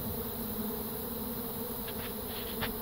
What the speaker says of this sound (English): I've got some seriously antsy, healthy bees.